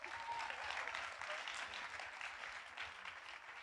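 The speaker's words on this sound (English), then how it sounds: "Another round of applause." An audience applauds at an arts academy evening performance, a sustained wash of clapping hands from a crowd that stays fairly even and moderately distant across the whole stretch.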